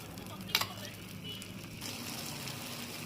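Vegetable dosa batter with spiced masala sizzles on a pan over medium heat, a soft steady crackle with one sharp clink of a utensil early on.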